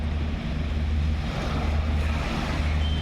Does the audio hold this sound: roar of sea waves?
yes